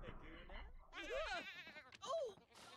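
A goat bleats in the video game The Sims 4, two wavering, nasal cries in close succession, loud and close, with a few brief sounds between them.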